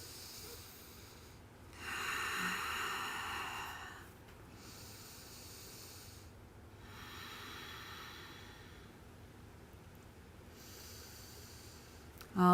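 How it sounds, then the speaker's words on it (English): Slow, deep breathing held through a yoga hip pose: several long airy exhales spaced a few seconds apart, close and soft, with no talking. "We're here for 5 breaths."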